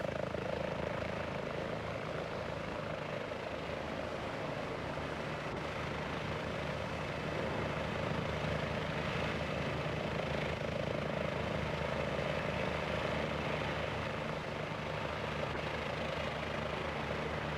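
A Nemeth Designs S-76 helicopter in a flight simulator drones steadily with constant rotor and turbine noise, loud and unbroken for the whole stretch, with no talking.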